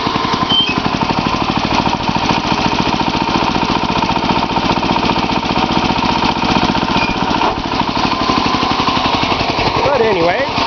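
A rebuilt LME 37 engine idles low and steady, a continuous close, loud knocking chug with an even rhythm throughout, with a brief whine near the end.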